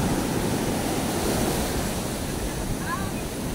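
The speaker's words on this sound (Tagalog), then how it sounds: "Aabutin tayo ng alon." Ocean surf washing up on a shore, a steady broad roar of breaking water with wind, continuous and fairly loud.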